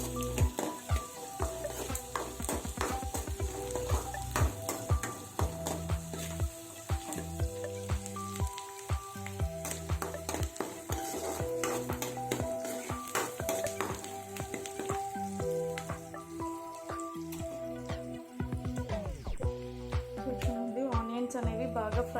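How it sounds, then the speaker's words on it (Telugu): Onions sizzle in a pan on high heat for a snake gourd fry, with steady crackling frying and repeated scraping stirs from a spatula. A voice talks over the cooking. "ఇప్పుడు నేను హైలో పెట్టుకొని ఫ్రై చేసుకుంటున్నాను ఆనియన్స్"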